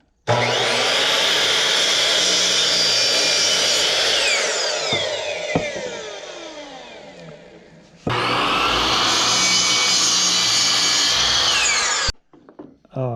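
A power saw cuts through wood in two long passes, the motor whining loudly and its pitch sagging as the blade bites, then a brief stop.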